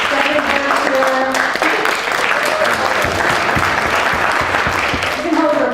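An audience at a theatre leadership gathering applauds in a steady wash of clapping while voices talk over it throughout, with a few sharper claps standing out near the middle.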